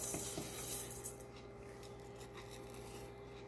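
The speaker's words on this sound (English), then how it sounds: "I'm taking my mortar and pestle, and I'm not going to do all of it at once." Cauliflower and quinoa are ground into flour in a mortar and pestle, giving quiet, close rasping and scraping strokes, with a few sharper scrapes early on.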